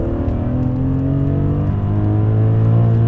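BMW E46 M3 engine, a manual-transmission car, revs steadily with strong low harmonics climbing slightly in pitch, loud and close, with no talk over it.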